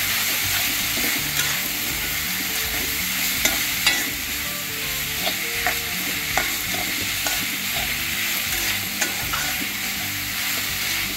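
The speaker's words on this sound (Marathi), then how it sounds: "आता त्यामध्ये आपण तेलामध्ये ही भाजून घेतलेली घेवड्याची भाजी ती घालून घ्यायची आणि हे सर्व एकत्र करायचं" Fried broad beans being stirred together in an oiled pan, with a steady sizzle and soft, irregular scraping and clinking of the spoon against the pan, close and continuous.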